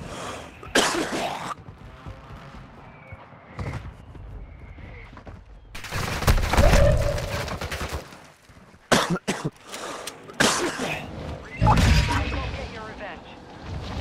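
Gunfire in Call of Duty: Modern Warfare II: scattered loud bursts and single shots with booming impacts spread across the clip, mixed with speech and game sounds.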